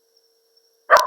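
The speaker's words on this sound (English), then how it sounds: "That's my neighbor's dog barking at me." A neighbor's dog gives one sharp, loud bark close by, breaking an otherwise quiet room with a faint steady hum.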